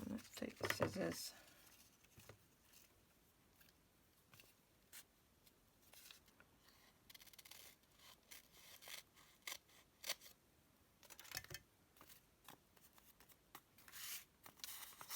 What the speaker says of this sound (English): And let's take the scissors.